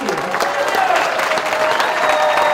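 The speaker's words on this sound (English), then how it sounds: "And let's just give one final big applause for the class of" Big round of audience applause for a graduating class at a 2022 jacketing ceremony, dense and steady clapping throughout with crowd voices and a few tones mixed in.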